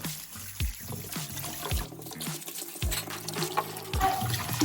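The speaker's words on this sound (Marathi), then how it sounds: "तर त्यासाठी अगोदर गाजर स्वच्छ धुवून घ्यायचे." Carrots are washed by hand under running water in a home kitchen, making a steady splash and trickle. Brief knocks and handling sounds come through close by.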